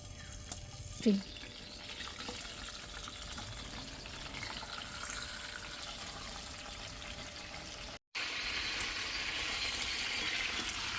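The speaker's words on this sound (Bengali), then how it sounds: "তেলটা গরম হয়ে গেছে, এখন চিকেনগুলো আমি দিয়ে দিতেছি।" Chicken pieces for a roast are lowered into hot oil for a light fry, and a soft, continuous sizzle and crackle follows, fairly quiet and close, with a brief break before it resumes slightly brighter.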